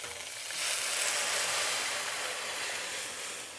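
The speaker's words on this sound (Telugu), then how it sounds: "ఇప్పుడు సాంబార్ పోయేద్దాం అందులో" Sambar poured into a hot onion and mustard-seed tempering with asafoetida gives a loud, steady sizzle and hiss that swells and holds for a few seconds before easing off.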